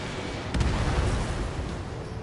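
A missile explodes in the jet combat video game Ace Combat 7, heard as a dense, loud roaring blast that holds steady for about two seconds, with a sharper burst near the start.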